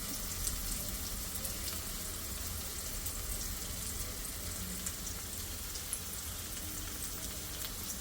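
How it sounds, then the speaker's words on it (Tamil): A steady bubbling and sizzling simmer from a pot of fish curry with white fish, dense crackly texture throughout with no talking, constant in level. "குழம்பு நல்லா கொதிக்குது."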